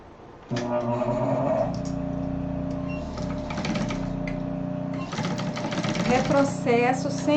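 A sewing machine stitches the closing seams of a crossbody bag, its motor humming with rapid rhythmic needle clatter, pausing briefly midway before running again, while someone talks over it.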